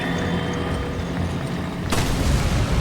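A loud explosion goes off in the video game Resident Evil 5, a sudden broadband burst that lands over steady game noise and then holds as a dense, rumbling roar.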